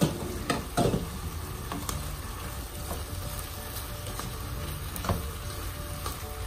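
Ginisang beans and carrots being stirred in a sizzling pan, with steady frying crackle and intermittent scraping and clacking of the utensil, close and continuous with no talking.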